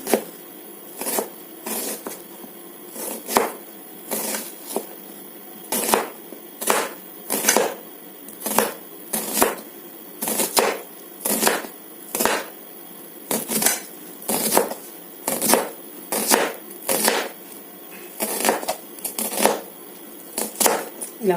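A knife chopping ridge gourd on a board, with crisp regular knocks in quick bursts repeating throughout, close and clear, with brief pauses between runs.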